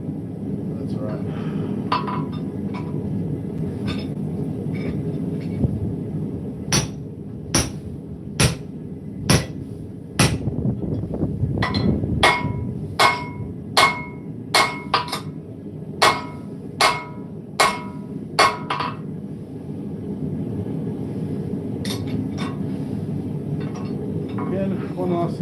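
Hammer blows ringing on hot metal at an anvil during Christmas forging, a run of about fifteen sharp, evenly spaced metallic strikes over a steady background hum, with speech-like murmur underneath.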